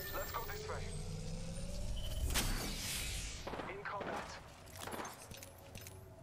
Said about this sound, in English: Yeah, now there's gunfire behind us.